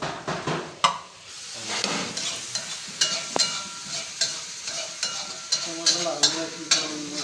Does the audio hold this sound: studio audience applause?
no